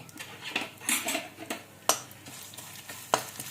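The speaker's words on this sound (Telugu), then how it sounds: "మినప్పప్పు పొట్టు మినప్పప్పు ధనియాలు అవి నాలుగు స్పూన్లు ఇవి నాలుగు స్పూన్లు వేసి ఫ్రై చేసుకోవాలి" Urad dal and coriander seeds dry-frying in a pan, with a faint steady sizzle broken by a few sharp scrapes and taps of a spoon stirring, close and quiet.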